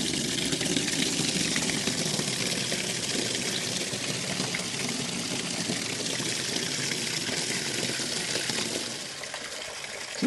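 Water gushes steadily into a pigs' trough in a continuous, close, rushing pour that runs unbroken for about ten seconds and softens slightly toward the end.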